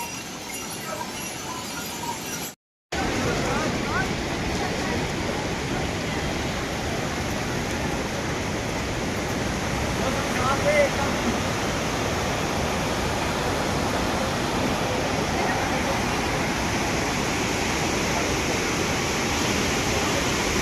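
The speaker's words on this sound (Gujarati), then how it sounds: "આ વોટરફોલ છે." A waterfall on the Kedarnath trekking path roars with a steady, dense rush of water, loud and close, continuing unbroken for the whole stretch after a brief cut near the start.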